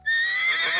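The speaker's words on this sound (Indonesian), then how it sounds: "Ya, itu suara kuda." A single horse whinnies, a loud, close, shrill neigh that starts abruptly and holds with a wavering tone for under a second, with no voices present.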